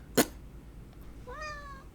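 A cat meows once, a clear rising-and-falling call heard close and fairly loud, following a sharp brief knock, with no talking over it.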